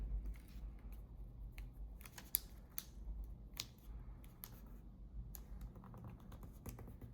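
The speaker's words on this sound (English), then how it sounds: "Now let's fold the square sheet down. Fully fold the short top left crease and fold in half again." A square sheet of origami paper folded along creases for a modular stellated dodecahedron unit, giving soft, quiet crinkles and sharp crisp taps scattered through the clip, close-up.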